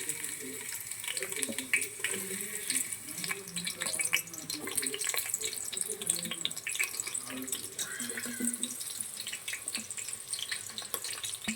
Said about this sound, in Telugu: ఆనియన్స్ ఫ్రై అవ్వాలి